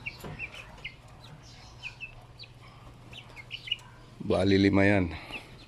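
Backyard chickens clucking softly as they peck at saba banana being fed to them, scattered quiet clucks and chirps with a voice talking over them and a louder vocal burst near the end.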